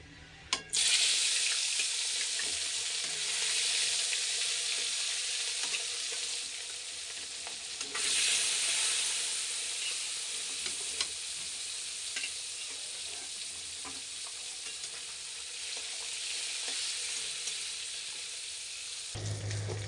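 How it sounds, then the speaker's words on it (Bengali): Rohu fish pieces fry in hot oil with a steady, loud broadband sizzle that runs nearly unbroken for about twenty seconds, with a brief dip partway through and occasional small clicks of a utensil. "বাকি কটা মাছ আছে এগুলো ভেজে নেবো"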